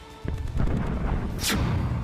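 Artillery guns firing on Pakistani army border posts, heard as a sharp boom followed by a sustained rumbling roar with a second burst midway, loud and close, with no talk over it.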